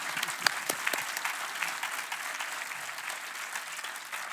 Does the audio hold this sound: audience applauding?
yes